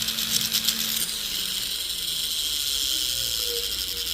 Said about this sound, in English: we want to file that down, preferably where you can't see where it was cut or welded